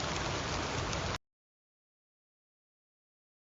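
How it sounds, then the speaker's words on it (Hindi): Heavy rain pours down as a dense, steady hiss for just over a second, then cuts off abruptly into silence. "इन क्षेत्रों में अत्यधिक वर्षा होती है।"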